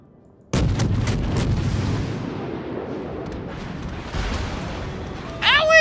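Naval gunfire in the World of Warships game, a sudden loud salvo of booming shots followed by rumbling decay and another heavy thud near the end.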